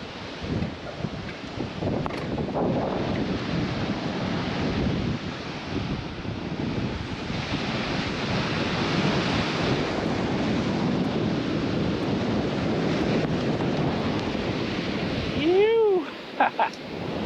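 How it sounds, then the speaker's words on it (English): Strong, steady wind roars and buffets the microphone throughout, with surf-like rushing noise underneath. "it's super windy."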